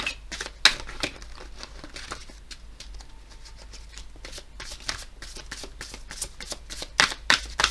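A tarot deck is shuffled by hand close up, giving repeated crisp riffling and slapping bursts in an uneven rhythm, with quieter rustling between the louder flurries.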